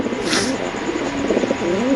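Pigeons cooing up close, a run of low throaty coos rolling on steadily, with a short brighter flutter of sound near the start.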